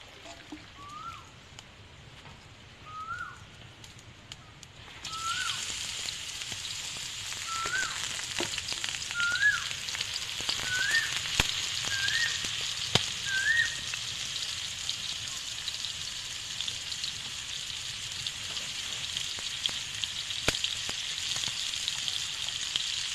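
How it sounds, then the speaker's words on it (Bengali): Pointed gourd (potol) dropped into hot oil starts a sudden loud, crackling sizzle that runs steadily for the rest of the clip after a quieter opening with a chirping bird, a voice faint beneath it. "পটলটা ভেজে নেব"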